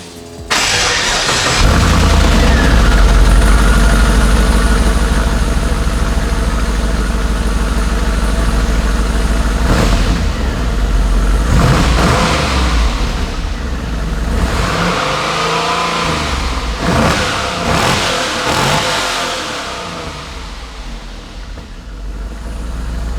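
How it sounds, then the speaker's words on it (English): A Holden VY SS engine on its stock exhaust idles with a deep rumble, then revs up loudly a few times before settling back, close by and dominant throughout. "I'll get you some exhaust sounds on the stock exhaust."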